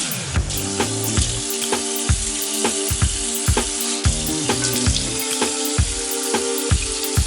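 Water runs from a tap during hair washing, a steady broadband rush with regular rhythmic thumps and tonal bands running through it the whole time, with no talking.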